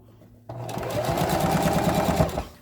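After a brief quiet moment, a sewing machine starts and runs steadily at close range, back stitching through several layers of a handbag with a fast, even mechanical chatter.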